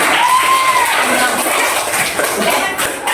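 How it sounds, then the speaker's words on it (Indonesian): A classroom of children applauds together in a loud, dense, continuous wash of clapping, with voices mixed faintly beneath it. "Berdiri tepuk tangan untuk kita semua."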